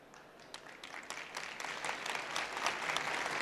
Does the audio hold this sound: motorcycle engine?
no